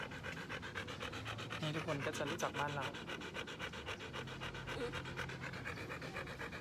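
A dog pants steadily and quickly close by during an evening bike ride with children, quiet and continuous under a man's speech.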